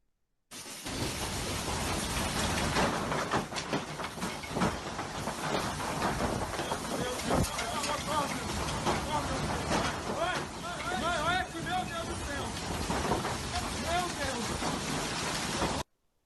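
Strong wind roars steadily and loudly against a house being stripped of its roof, a dense continuous rush that fills the whole recording.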